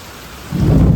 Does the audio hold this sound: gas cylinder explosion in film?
no